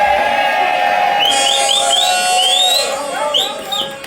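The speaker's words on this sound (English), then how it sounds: "give a warm round of applause for all the artists you've seen so far" An audience at a UK legends awards and review show cheers for the performing artists, with sharp rising whistles and whoops over a steady crowd roar that swells and then eases slightly near the end.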